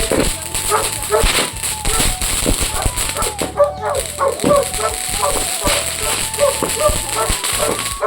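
A dog barks and yips repeatedly, close and agitated, at firecrackers being set off during a birthday celebration, with people talking over the commotion throughout.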